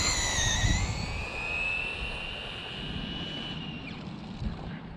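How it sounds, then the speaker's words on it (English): A Traxxas Slash RC car with drag modifications launching at full throttle, a loud high-pitched electric motor whine that climbs steadily in pitch and fades as the car speeds away, over rough background rumble. "I'm going to give it full throttle without the trans brake working."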